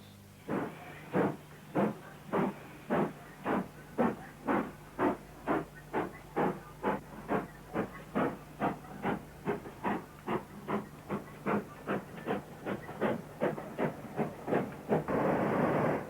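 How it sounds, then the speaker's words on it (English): A Great Western Hall class steam locomotive, number 6930, gives off about thirty sharp, evenly spaced exhaust beats. They come steadily over a low background rumble, and a continuous hiss swells near the end. "A Great Western Hall, number 6930, looking rather forlorn, having been shorn of its name and number plates"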